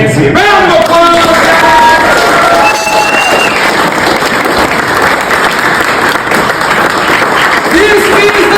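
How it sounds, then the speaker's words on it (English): Audience at a school acting class showcase bursts into loud, dense applause with cheering and whoops, while a voice talks and calls out over the start. "Round of applause!"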